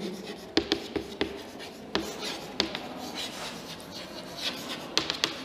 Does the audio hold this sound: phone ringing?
no